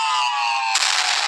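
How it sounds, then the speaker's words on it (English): Explosion in the car crash video game Car Crash V3, a steady broadband roar that suddenly shifts into a harsher, noisier blast and keeps rumbling loudly without talk. "I know there's gonna be an explosion right now."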